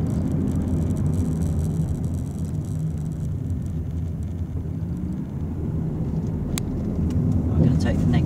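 A car's steady engine rumble and road noise from inside the cabin during a driving lesson as it slows toward a stop, the low drone continuous and fairly loud, with a voice talking over it.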